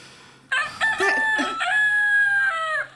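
A chicken crows nearby, one loud, drawn-out call that holds steady before breaking off, with no other sound around it.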